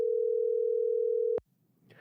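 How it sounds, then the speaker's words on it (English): A telephone dial tone hums steadily for over a second while a phone is dialed, then ends abruptly with a click. Faint low rumble and a bit of distant sound follow. "she sees her father start dialing the phone"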